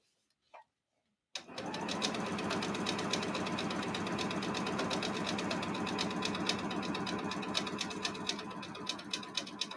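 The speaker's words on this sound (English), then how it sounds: "And again, I'm using my embroidery machine to quilt." Embroidery machine quilting a practice piece, a fast rhythmic mechanical stitching chatter that starts after a short pause and runs steadily and close for several seconds.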